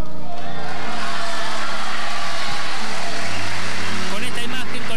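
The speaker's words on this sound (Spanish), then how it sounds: "con esta ovación de todos los diputados de diferentes partidos políticos, de todo el público que colmó los palcos" Sustained ovation from deputies of several political parties and a public crowding the galleries at the swearing-in of Jorge Rivas in Argentina's Chamber of Deputies, a dense continuous wash of applause and cheering throughout.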